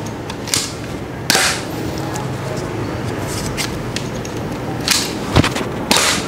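A toy pistol fires soft foam darts, a few sharp snapping pops spaced out over low background noise, nearby and fairly loud, with no talking.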